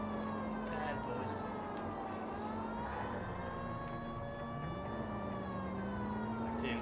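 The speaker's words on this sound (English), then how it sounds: "The AI in this game seems to act weird to the police siren." Police siren in the video game L.A. Noire, a steady wailing tone that sweeps slowly up and down and is heard fairly faintly beneath game ambience, with someone talking over it.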